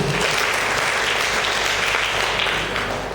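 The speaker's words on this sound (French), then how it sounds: "Applaudissez." Sustained applause from an audience at an awards ceremony in Sokone honouring academic excellence, a dense, steady wash of clapping filling the whole stretch and easing slightly at the end.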